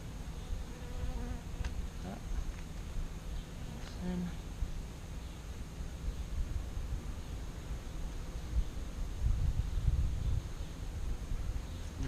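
Newly emerged honey bees swarm around brood frames at an open hive, making a continuous close buzzing drone with a few louder passes near the listener.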